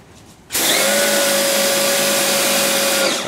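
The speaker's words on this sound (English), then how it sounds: "So we can turn our pressure washer on now." A pressure washer starts up abruptly after a short quiet moment and then runs at a loud, steady, high-pitched motor whine, close by and without talking.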